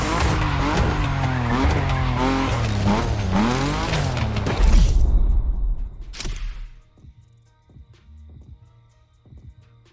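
A car drifts around the drifting track at a festival in The Crew Motorfest, a loud revving engine rising and falling with tire squeal, then a surging skid that cuts off, leaving quieter engine idle and faint mechanical clicks.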